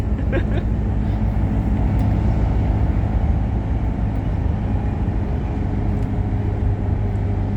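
Steady low engine hum and road rumble inside unrefurbished TransBunbury bus 1492 on route 826 in Bunbury, continuous and close, with a few faint rattles.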